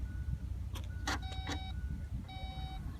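The power door of a 2016 Audi Q7 closing by itself: a whirring motor with tonal whines and a few mechanical clicks and thuds, heard close over a low background rumble.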